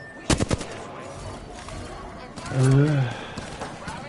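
Gunfire in the Apex Legends video game: a short burst of loud rapid shots near the start, with a voice speaking briefly later and other game sounds around.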